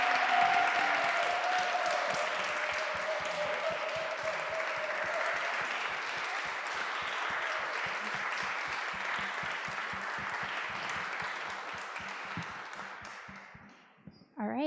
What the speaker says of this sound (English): So one more huge round of applause for the artists.